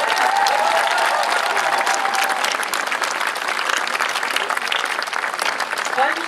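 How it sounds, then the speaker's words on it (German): An audience applauds after an opening speech following a parade at an equestrian show opening, with loud, continuous clapping and a few voices heard over it. "Bitte mal einen Applaus hier zu hören."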